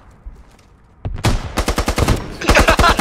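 Rapid automatic gunfire from a video game, loud bursts of repeated sharp shots following a brief quiet lead-in, continuing steadily to the end.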